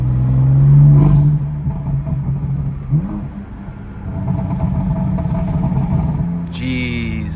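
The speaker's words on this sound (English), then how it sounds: "Let's see if I can get a nasty pop for you guys." A BMW M4 CS revs close by, its exhaust note swelling and dropping in several loud blips with crackling pops between throttle stabs, and a brief voice near the end.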